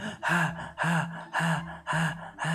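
A voice imitates a video game monster's heavy idle breathing, five loud rasping gasps in a steady rhythm, each a harsh, breathy inhale-exhale close to the mic.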